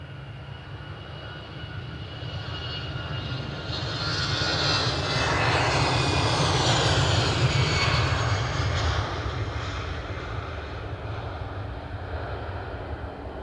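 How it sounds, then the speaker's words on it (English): An EasyJet airliner taxis at Edinburgh Airport, its jet engines a loud sustained roar that swells to a peak midway and then eases slightly, heard from outdoors with no talking. "Oh, EasyJet moving."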